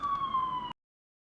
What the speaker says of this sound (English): I'm waiting for the sirens to pass.